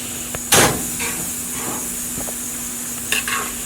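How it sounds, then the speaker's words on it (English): Butter-soaked ribeye steaks on a hot grill, a continuous close sizzle with sharp hissing flare-ups as the butter catches fire, two louder bursts standing out. "Remember, I soaked that butter on the steaks, and this is why, because it'll flame up the fire."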